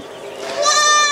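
A goat kid lets out one loud, close bleat that rises and strengthens toward its end.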